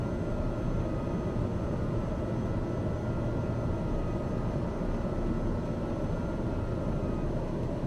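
A small single-engine airplane on approach to Manley International in Jamaica drones loudly and steadily from inside the cabin, with its engine and propeller noise as an unbroken roar.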